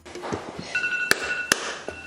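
A phone alarm chimes in a few bright electronic pings with a sustained tone, close by, over faint room noise.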